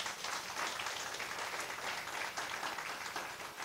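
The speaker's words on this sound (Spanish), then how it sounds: "Démosle fuerte aplauso al Señor" Loud applause for the Lord from a church congregation, a dense, continuous wash of clapping filling the space without pause.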